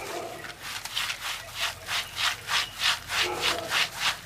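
Rhythmic rubbing of urad or mung dal between hands while washing it in water, a steady series of about a dozen scraping strokes, close and fairly loud, with no voices.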